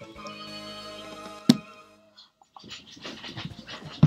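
A dog pants in a room in short, uneven bursts, close and fairly quiet, with a sharp knock or thump and faint household noise in between.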